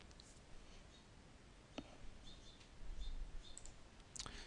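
A computer mouse clicks while a file is saved in PowerPoint, producing a few faint, sparse, isolated clicks over a quiet room hiss with no talking.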